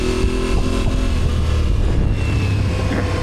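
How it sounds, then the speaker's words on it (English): An Aprilia Tuareg motorcycle engine accelerates on a mountain shelf road, a loud, close, continuous droning roar with wind buffeting and no voices. "It's a good running engine."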